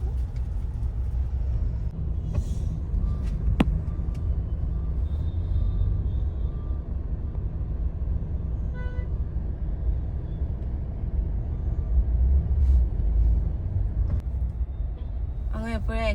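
Delhi road traffic rumbles steadily and close, with engine drone throughout, a short horn honk near the end and a brief tone partway through, while a voice talks over it.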